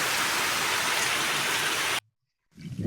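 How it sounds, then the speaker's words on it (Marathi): Steady, dense downpour of heavy cloudburst rain in Amravati, Vidarbha, hissing loudly for two seconds, then a sudden cut to silence before the rain noise returns. "अशा प्रकारे पाऊस चालू आहे."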